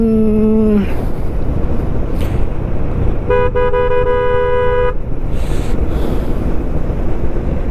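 A large vehicle's horn blares loudly on a hill road near Kodaikanal, a short tone at the start and a longer sustained blast midway, over constant wind and engine rumble from a moving bike.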